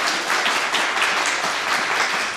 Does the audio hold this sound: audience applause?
yes